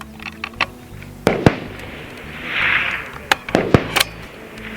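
Sharp report of an AEA Zeus Gen 2 .58 caliber air rifle firing at a steel target 100 yards away on a range, one loud crack among several other distant shots, with a soft hiss-like swell in between.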